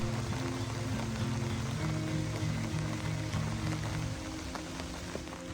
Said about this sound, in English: Here's a quick clip I threw in one day while it was raining.